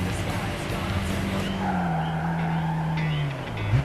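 Car engine droning steadily in the Gran Turismo 5 racing game on PS3 during an A-License test, with drawn-out tire squeal as the car skids through a corner, loud and continuous with no talk.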